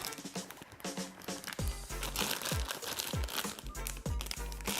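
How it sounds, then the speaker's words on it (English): A plastic bag of marinating beef tapa crinkles and crackles as air is pressed out of it, with a few dull thumps and squishes as the bag is handled up close. "Use the bag, take out the air."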